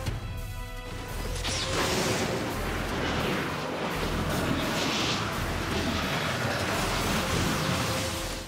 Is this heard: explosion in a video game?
yes